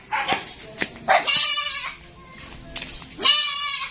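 Several goats bleat loudly and close by, their wavering cries overlapping in quick succession with short pauses between calls.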